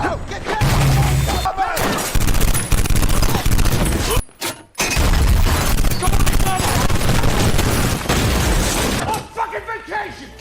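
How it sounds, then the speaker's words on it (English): Dense, loud bursts of gunfire with shattering crashes and a chaotic mix of voices, a brief drop to near silence midway, then the barrage resumes. "Suddenly, gunfire erupted, and one of the bullets struck Yuri's hand"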